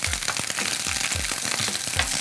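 Shrimp fried rice stir-fried in a wok over high heat, with a steady loud sizzle broken by rhythmic scraping strokes of the spatula about twice a second, close and continuous with no voices.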